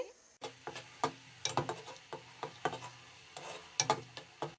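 Finely chopped onions frying in oil, a quiet sizzle broken by irregular clicks and taps of a spoon stirring against the pan, close and soft.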